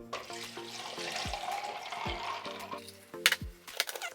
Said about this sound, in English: I'm pouring the 2 cups of water.